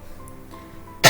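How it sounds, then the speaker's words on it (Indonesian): A single short, sharp cough bursts out at the very end after near-quiet room tone. "batuk."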